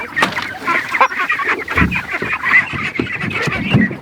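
A small flock of ducks at a family homestead honk and quack repeatedly in an overlapping, irregular chorus, loud and close throughout with no talking.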